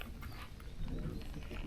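A black dog vocalizing nearby in an Uttarakhand village during rain, a low rough sound under steady background noise, with no talking.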